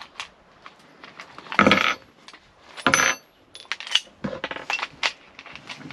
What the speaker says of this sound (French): Le rechargement se fait assez vite.